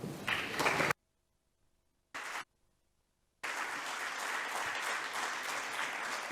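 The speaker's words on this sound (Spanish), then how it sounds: "Me cuelo justo en los aplausos" Applause from an audience at a round-table conference, cut off briefly by silence and a short burst, then resuming as steady, sustained clapping.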